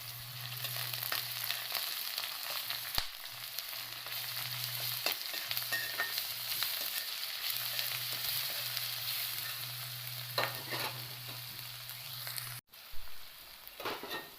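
Bay leaf and ginger-garlic paste frying for a lobia curry give a steady, close sizzle with soft stirring scrapes. It runs continuously and cuts out briefly near the end.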